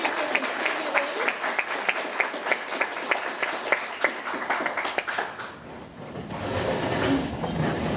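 A crowd applauds at an art event, with dense, lively clapping close by for about five seconds before it thins out and gives way to background murmur.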